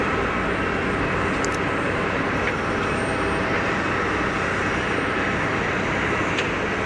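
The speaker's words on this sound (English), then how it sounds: "EgyptAir is in on the taxi." An EgyptAir airliner taxiing at Geneva Airport gives off a loud, continuous jet engine roar, steady and broad for the whole stretch.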